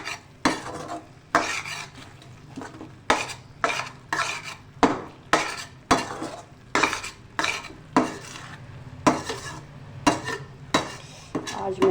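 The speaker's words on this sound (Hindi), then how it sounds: "अब इसे हम अंडा डाल के खूब अच्छे से भुनाई करेंगे" Poppy seed chutney mixture with egg being roasted in a pan, a spoon scraping and clacking against the metal in a steady repeated rhythm of about twenty strokes over a low sizzle, close and fairly loud, no talking.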